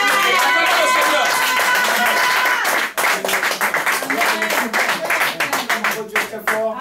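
Church congregation clapping and applauding in praise, dense continuous rhythmic claps that grow choppier midway, layered with voices and singing.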